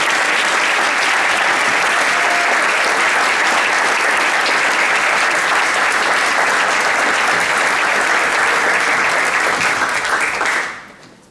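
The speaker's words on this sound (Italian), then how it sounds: "Quindi un applauso forte e grazie veramente di cuore a Jill e Bruce" Theatre audience at an opera festival at Teatro Duse in Asolo, Italy, gives long, loud, sustained applause, dense and unbroken before stopping abruptly near the end.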